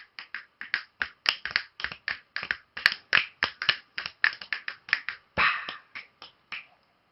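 A long run of sharp finger snaps, about twenty in quick but uneven succession, crisp and close with short gaps between, heard alone without speech.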